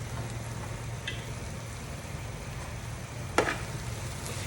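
Tomatoes frying with onions and spices in a pan for chicken curry: a steady, fairly quiet sizzle with a low hum underneath and one brief clatter of a utensil near the end, no talking.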